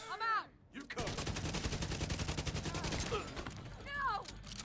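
Rapid automatic gunfire in Division 2, a dense burst of shots lasting a couple of seconds close up, bracketed by brief electronic effects before and after.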